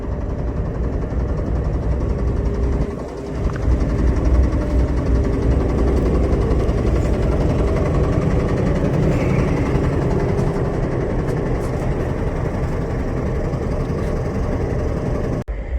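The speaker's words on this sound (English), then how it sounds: "That's the turbo you hear going on and off. Diesel turbo." Diesel locomotive at a CSX rail yard, a heavy, constant low rumble of the idling engine with a faint rise and fall as the turbo cycles on and off, steady and close throughout.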